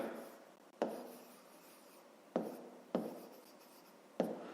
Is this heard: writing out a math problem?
yes